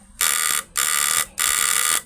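A harsh electric buzz from a contact-breaker shock circuit under load sounds in three steady bursts of about half a second each, separated by short gaps, loud and close with no voices.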